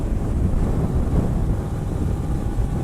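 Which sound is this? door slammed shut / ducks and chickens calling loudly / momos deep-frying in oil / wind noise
wind noise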